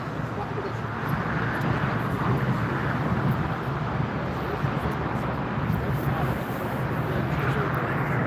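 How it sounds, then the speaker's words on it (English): El Al Boeing 787-9 Dreamliner jet at Frankfurt Airport waiting to take off, a steady loud broadband engine roar with wind noise throughout, no clear rise in pitch. "I think it's preparing for takeoff"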